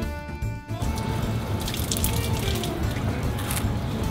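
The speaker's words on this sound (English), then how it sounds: "drinking water from these kind of taps" Water pours steadily from a public drinking-water tap in Polignano a Mare, a continuous near splashing gush that starts after a brief moment of other sound.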